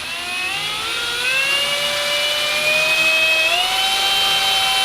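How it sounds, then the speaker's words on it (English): A drill bit, dull and working its way through hardened spring steel, gives a steady high whine with a slowly rising pitch, close and loud throughout, alone. "this drill bit is dull after drilling through that one time"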